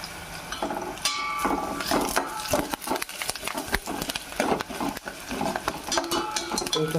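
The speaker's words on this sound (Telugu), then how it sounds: "పచ్చి వాసన పోయేదాకా మంచిగా ఫ్రై చేసుకుందాం." Potato fry with green chillies, curry leaves and turmeric is stirred in hot oil, producing busy, continuous scraping and clattering of a utensil against the pan with sizzling underneath, close and fairly loud.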